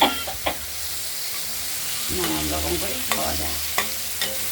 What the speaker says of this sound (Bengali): দেখুন পটলগুলো কুচিয়ে ভাজা ভাজা করে নিলাম